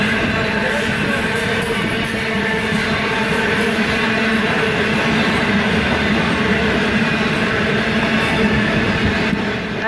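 A heavy loaded coal train rumbles past close by, a steady loud roar of wagons with faint rhythmic clatter throughout, no voices.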